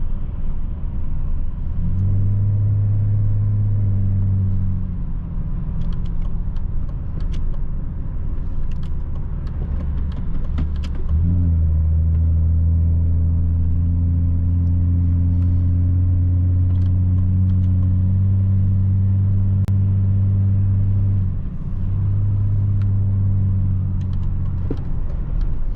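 A BMW 730d E38 with a 184 hp diesel and straight pipe drives through the city, a deep loud droning exhaust note that holds steady, dips briefly, then settles into a low continuous rumble.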